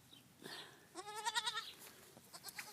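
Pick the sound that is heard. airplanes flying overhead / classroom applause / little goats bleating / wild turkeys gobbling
little goats bleating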